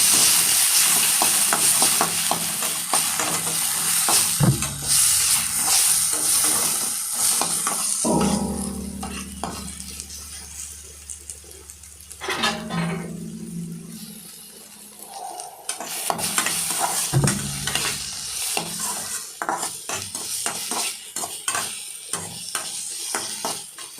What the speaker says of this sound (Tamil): தக்காளியை சேர்த்து நல்லா வதக்கணும்.